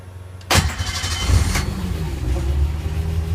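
The gasoline Ford V6 engine of a Hagglunds BV206 all-terrain vehicle cranks and catches, then settles into a smooth, low, steady idle close by, fairly quiet overall.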